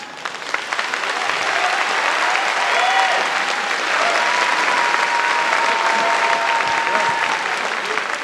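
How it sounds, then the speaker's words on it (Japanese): Sustained applause from an audience at a RISE kickboxing event, steady and full for several seconds, with a few faint tonal sounds over the clapping. "今一度盛大な拍手をお願いします。"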